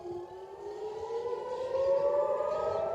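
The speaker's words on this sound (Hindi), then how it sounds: "इसके बाद तेल अवीव में सायरन बज उठे।" An air raid siren wails over Tel Aviv after a missile attack, one sustained tone climbing slowly in pitch and swelling a little in loudness, heard alone and clear with no voices.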